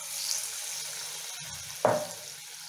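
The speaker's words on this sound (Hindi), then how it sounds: "तेल हमारा अच्छे से एकदम गर्म हो गया है, आँच को हम रखेंगे मीडियम, और इसमें हम एक एक आलू इस तरह डालते जाएंगे" Potato slices dropped one at a time into hot oil on medium heat for crispy pakora fritters, a steady background sizzle with a sharp burst of frying as a piece hits the oil near the end.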